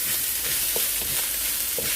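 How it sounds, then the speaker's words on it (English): Steady loud sizzling as vegetables and Thai jasmine rice stir-fry in a hot pan, with occasional scraping taps of a utensil stirring it. "as you keep on stirring it, stir frying it"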